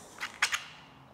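A stainless steel quick disconnect coupler snaps onto a pressure washer lance, giving two or three sharp, close metallic clicks in quick succession with no talk.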